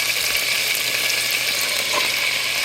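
Ground pork balls stuffed with chicken and biscuits sear in a pan with a steady, loud, close sizzle and faint crackles throughout, no talking.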